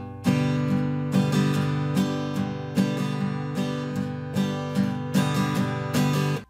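An acoustic guitar plays a boom-chuck strumming pattern from the intro of a song: bass notes alternate with sharp chord strums in a steady two-measure cycle, close and moderately loud, with no talk.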